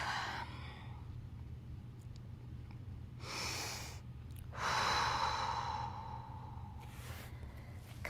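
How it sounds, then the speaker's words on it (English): Slow, deep breaths during a stretching exercise, a few long airy inhales and exhales close to the mic, fairly soft, with no talking. "2 nice big deep breaths in"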